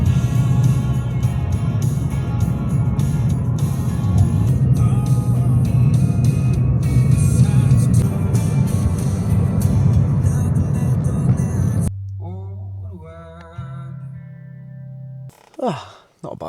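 A car driving along a quiet road in the morning, with a steady road and engine rumble filling most of the stretch before it cuts to quieter, clearer sounds near the end.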